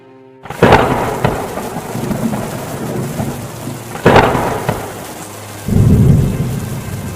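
Heavy rain pours steadily throughout, with loud, close thunder cracks near the start and again around the middle, followed by a deep rumbling roll near the end.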